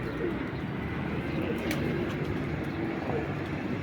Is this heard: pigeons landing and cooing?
yes